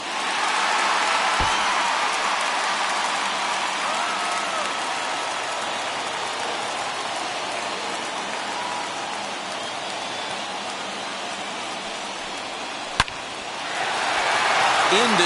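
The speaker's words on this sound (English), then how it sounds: "Crowd gets up for the 3-2." A stadium crowd in MLB 21 The Show keeps up a broad, steady roar that swells slightly near the end, with a sharp crack partway through and commentary running over it.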